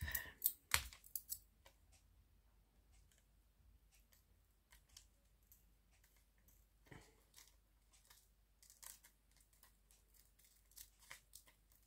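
Scissors cut out a card piece in a quiet room: a sharp snip near the start, then faint, scattered snipping and paper rustles, with no talking.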